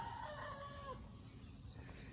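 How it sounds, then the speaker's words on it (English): A rooster crows faintly in the distance over a steady wash of background noise, with no other voices present. "Yes, I hear the roosters."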